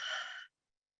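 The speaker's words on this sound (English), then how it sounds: "and breathe out." A deep, steady exhale from a person during a guided relaxation breathing exercise, one long breathy sigh lasting about half a second, close and clear, then silence.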